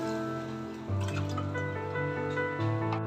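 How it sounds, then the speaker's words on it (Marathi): Chicken cooking water poured into a pan of browned masala for chicken rassa, a steady close liquid pour with dripping and sizzling running throughout, no talk. "आता मी हे भाजून घेतलेलं तेल सुटेपर्यंत आणि चिकन शिजवून घेतलेलं हे पाणी"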